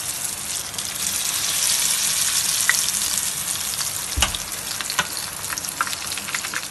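Potato paneer bird nests fry in hot oil with a constant bright sizzle, with faint stirring clinks and a few brief pops.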